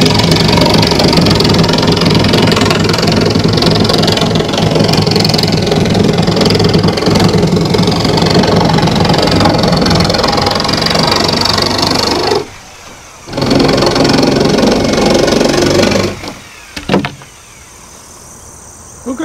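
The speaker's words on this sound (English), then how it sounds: "for the window opening here, I just go inside with a sawzall and cut that out" Sawzall cutting a window opening through the sheeting of a bee shed, a loud continuous rough buzzing and rattling at close range that breaks off briefly, resumes, then stops near the end.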